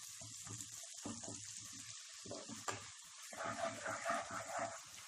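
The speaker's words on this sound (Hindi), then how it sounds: "हाई फ्लेम पे इसे भी अच्छे से फ्राई कर लें, प्याज का रंग बदलने तक।" Chopped medium-size onions frying on a high flame, a steady broadband sizzle running throughout with bursts of stirring and scraping, the frying growing louder and busier toward the end.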